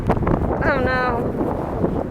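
Strong wind blows outdoors, roaring and buffeting the microphone in a loud continuous rush, with a voice speaking over it.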